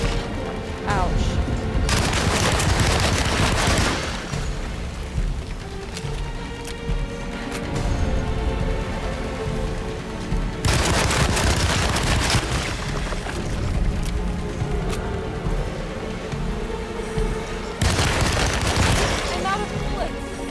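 Dense, sustained gunfire and booming blasts from the 2024 Alone in the Dark game, loud and continuous for twenty seconds, with heavier bursts around the start, middle and end, under a voice talking.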